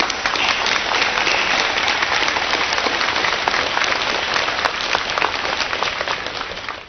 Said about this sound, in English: Let's give a round of applause for our distinguished guests who have sent their loving support